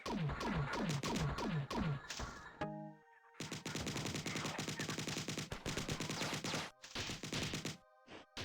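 An alien weapon in a space-exploration video game fires in rapid repeated bursts, loud, close and mechanical, with short pauses and sharp electronic tones between the volleys.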